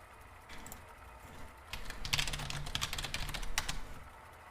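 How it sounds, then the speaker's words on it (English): Bursts of computer keyboard key clicks and taps during a Hearthstone session, sparse at first, then a busier run of rapid clicks, close and fairly quiet over a low background hum. "Just clicking buttons over here."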